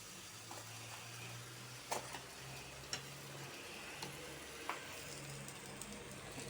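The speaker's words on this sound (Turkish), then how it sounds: "Duydunuz değil mi arkadaşlar sesi? Sucuklar pişiyor harika." Sucuk sausage slices fry in a pan with a steady soft sizzle, close and quiet, broken by a few sharp ticks and pops from the hot fat.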